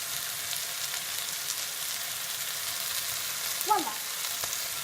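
Shallot, garlic and a pinch of spices frying in a pan for lamb navarin give a steady, even hiss of sizzling oil, close and constant, with a short spoken word near the end.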